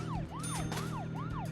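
A police car siren in the video game Deadly Premonition wails in a steady rising-and-falling cycle, repeating about every half second, loud and continuous over a low engine drone, with no voices.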